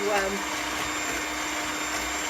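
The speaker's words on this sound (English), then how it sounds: "So you whisk it and whisk it." Chickpea water (aquafaba) being whisked for chocolate mousse with an electric whisk, a steady high whirring motor drone that holds evenly for a couple of seconds.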